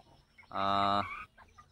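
A single loud, drawn-out chicken call rings out clearly for about half a second, with faint clucks and quiet farmyard noise before and after, on a local chicken farm in Nepal.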